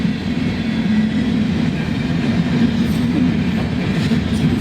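A train rolling past on a rail line, a steady loud rumble with rhythmic wheel clatter that holds near and constant throughout.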